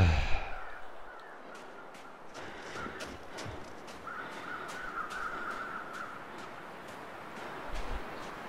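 Crows in the video game The Long Dark give scattered, somewhat distant caws over a hissing wind-like background and occasional light thumps.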